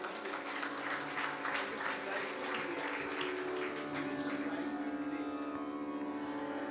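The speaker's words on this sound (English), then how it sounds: "can we please request for a huge round of applause for both of them" An audience applauds steadily and continuously after a shehnai and vocal Hindustani classical performance, the dense clapping mixed with lingering sustained instrumental drone tones.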